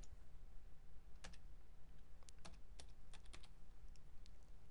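Typing on a computer keyboard while entering a word into a form's text field, heard as irregular bursts of close, crisp key clicks over a steady low background hum.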